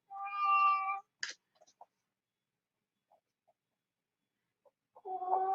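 A cat meows twice, a drawn-out, tonal meow at the start and another rising at the very end, with near silence and a few faint clicks between.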